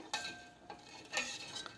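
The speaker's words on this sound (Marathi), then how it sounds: "एकसारखं असं चमच्यानी मिक्स करून घ्यायचं आहे" A spoon scrapes and clinks against a pan while stirring sugar to dissolve it, in a few quiet strokes, with soft gaps between them and no voices.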